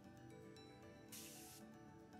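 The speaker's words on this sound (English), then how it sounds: "I'm gonna use my continuous setting spray." Continuous makeup setting spray misting out in one short, bright hiss of about half a second, close and fairly quiet, over faint background noise.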